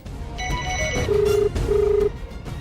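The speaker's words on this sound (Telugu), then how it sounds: "స్వర్ణ ఏంటిది ఇప్పుడు ఫోన్ చేస్తోంది?" Telephone ringing, a few electronic tones followed by two sustained ring pulses, close and clear over a low background hum.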